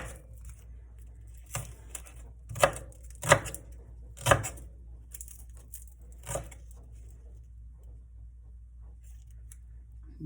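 A knife chops vegetables on a cutting board while moose meat with gravy is being prepared, giving a handful of sharp, separate, fairly close strikes spaced irregularly over quiet kitchen background.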